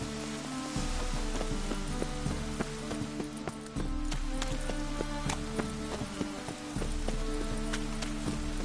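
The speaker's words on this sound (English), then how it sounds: "It's raining again." Steady rainfall in The Witcher game, a continuous hiss of drops with occasional sharper taps and low rumbling underneath, with no voices.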